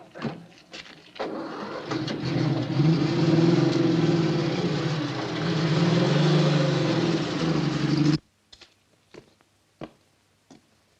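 A car engine hums loud and steady for several seconds as it drives down a country drive, then cuts off abruptly, followed by a few sharp isolated clicks in near silence.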